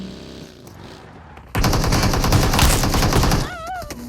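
Gunfire in the battle royale game Fortnite, heard as a loud, dense burst of rapid shots lasting about two seconds, rising sharply from quieter game sounds and cutting off abruptly.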